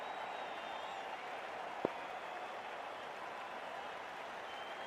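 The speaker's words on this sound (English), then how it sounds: "already the crowd is up and about" A cricket stadium crowd keeps up a steady, broad roar of cheering and applause before play gets underway, a continuous wash of noise with one brief sharp crack partway through.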